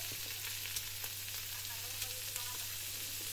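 Sausage for bihon sizzles and fries in a pan in a steady, close crackle, with a few soft stirring clicks and a low steady hum underneath.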